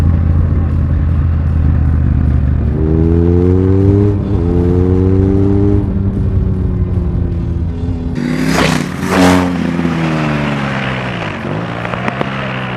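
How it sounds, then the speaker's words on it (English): A Triumph Thruxton R or BMW R nineT motorcycle engine rumbles loudly up close, its deep droning pitch climbing and settling through gear changes before a sharper, harsher surge near the end. "The BMW's has rumble, but the Triumph has more."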